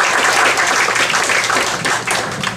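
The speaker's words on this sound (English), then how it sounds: "you deserve a round of applause" An audience at a stand-up comedy show applauds, with dense, loud, continuous clapping that holds steady and then fades slightly.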